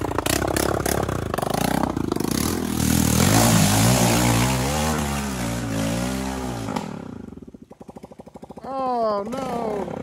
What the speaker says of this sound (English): a quick clip of me hitting the hill climb with no manifold on the bike